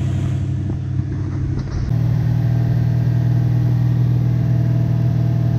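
A Toyota pickup's 1UZ-FE V8 engine idles steadily while warming up, a deep, even rumble, stepping up to a slightly higher, louder idle partway through and holding there.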